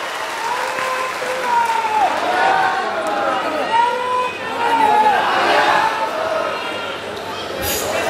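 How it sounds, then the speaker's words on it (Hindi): A large crowd applauds at an outdoor election campaign rally in Chanakapur held for Amit Shah, with sustained clapping and a cheering swell. A voice carries over the top of it, and the noise stays loud throughout. "अमित भाई जी का जोर से ताली बजा के हम स्वागत करेंगे"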